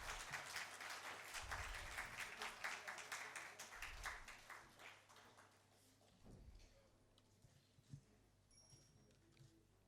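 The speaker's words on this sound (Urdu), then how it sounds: "آپ سب کی بھرپور تالیوں میں" Audience applause at a book launch during a literature festival opening ceremony: dense, steady clapping from a crowd fills the first six seconds, then thins out and fades into quieter room sound with scattered claps.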